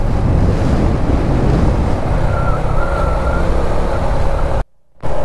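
Sea waves roll in along the coast road between Tiwi, Albay and Sagñay, Camarines Sur, heard from a moving motorcycle. A steady, loud wash of surf blends with heavy wind rush, broken by a brief dropout near the end.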